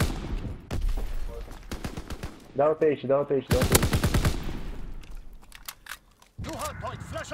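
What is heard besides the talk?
gunfire in a video game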